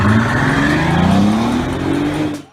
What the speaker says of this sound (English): with an insanely overpowered 6-liter W12 engine